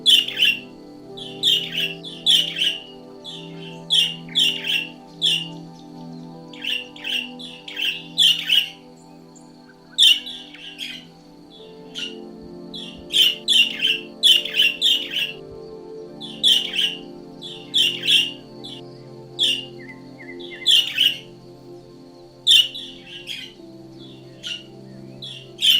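A wild bird calls in repeated bursts of bright chirps and squawks, close and fairly loud, separated by short pauses over a steady low background hum.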